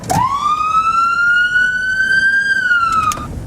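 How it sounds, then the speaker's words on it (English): A single police yelp siren tone swoops up and holds steady for about three seconds, loud and clear with no talking. "So this is the Yelp siren."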